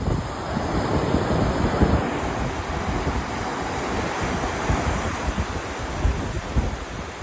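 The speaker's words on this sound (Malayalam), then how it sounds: "നല്ല കാറ്റ്," Strong wind roars and buffets the microphone at Kozhikode beach in Kerala under rain clouds, with the wash of surf blended into the constant rushing noise.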